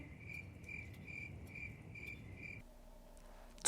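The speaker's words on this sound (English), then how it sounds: "to have that classic followed up by crickets" Crickets chirp in a steady, evenly spaced rhythm of short trills, fairly close and moderately loud, then stop abruptly before a brief sharp noise at the end.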